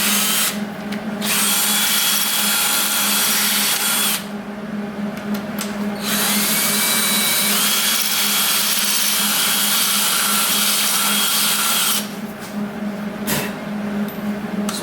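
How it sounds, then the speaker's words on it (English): A power drill spins a Dremel bit to clean out a broken exhaust bolt hole on an LS-swapped Nissan 350Z. The high whine comes in long, loud bursts broken by brief pauses, close to the listener. "I'm going to use this Dremel bit in a drill and clean this out first."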